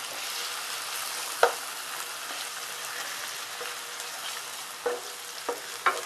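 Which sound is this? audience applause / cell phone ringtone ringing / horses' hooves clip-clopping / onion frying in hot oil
onion frying in hot oil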